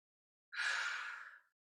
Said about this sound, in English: More breathing.